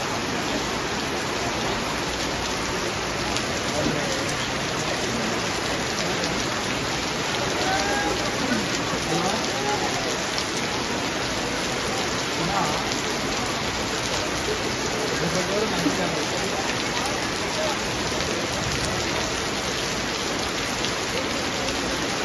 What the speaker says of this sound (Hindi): गहरे बादल छा गए और मूसलाधार बारिश शुरू हो गई